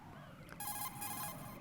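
An incoming phone call rings in Metal Gear Solid 2, a bright electronic trilling tone that starts abruptly and repeats for about a second over a quiet background.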